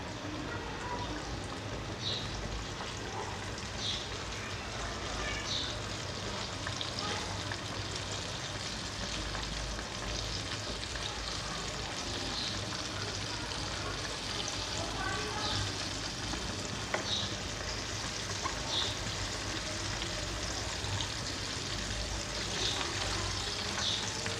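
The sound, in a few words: zinger burger chicken piece frying in hot oil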